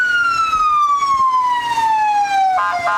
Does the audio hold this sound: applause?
no